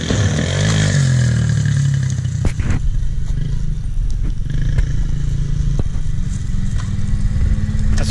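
A motorcycle rides past loudly, engine revving up and down through gear shifts with some clatter and scraping, continuous throughout with no talk.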